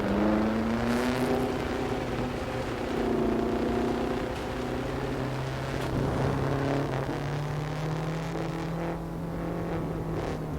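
A tiny off-road car built in the video game Trailmakers drives along with a steady, continuous engine drone that rises and falls slightly in pitch, close and moderately loud throughout.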